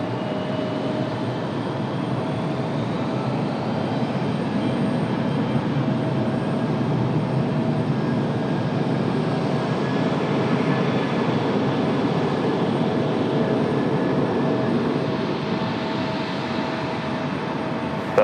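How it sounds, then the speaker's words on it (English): An ATR turboprop airliner arriving from Wilmington gives a steady, broad engine roar with a faint propeller hum, holding constant and moderately loud for the whole stretch, with no voices. "Here comes our ATR"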